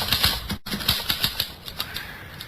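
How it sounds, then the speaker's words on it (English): Manual typewriter keys clacking in quick irregular bursts, close and fairly loud, with a brief pause partway through. "Here's a typewriter."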